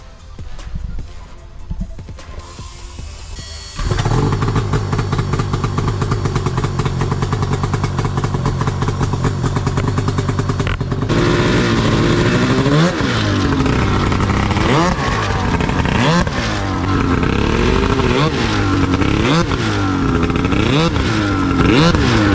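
A Yamaha YFZ 1000cc two-stroke ATV engine with a wheelie bar fires up after a few seconds of idle noise, then settles into a loud, steady drone, with repeated sharp throttle blips rising and falling over the second half.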